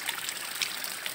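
Clear mountain spring water trickles straight from its source in rural countryside, a close, steady babbling flow with a soft hiss and no voices.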